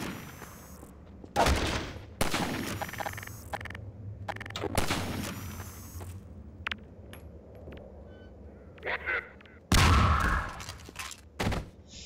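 Sniper fire in Half-Life 2 cracks out as several sharp, loud shots at irregular intervals, with metallic clinks and quieter rumbling between them.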